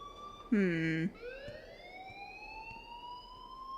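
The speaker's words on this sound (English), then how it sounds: "please turn off that alarm since that's your job" An electronic school alarm in the Life is Strange video game blares loud for about half a second, then a single sustained tone slowly rises in pitch and lingers at moderate level.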